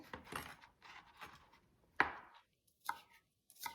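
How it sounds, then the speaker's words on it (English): A knife chops garlic into small pieces on a board, with bursts of quick rhythmic cuts broken by short pauses and a few sharper single strikes, close and clear in an otherwise quiet room. "I'm gonna put some garlic in there with it. Just gonna cut it up really small."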